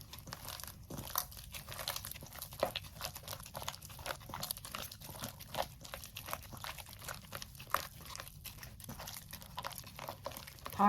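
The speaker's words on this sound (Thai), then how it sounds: "พอเราปอกเปลือกกล้วยของเราออกหมดเกลี้ยงดีแล้ว จากนั้นก็ ใช้มือขยำค่ะ" Peeled ripe bananas are mashed and squeezed by hand for a Thai steamed banana cake with coconut topping, giving soft, steady squelching and crinkling sounds that run close and continuous without talk.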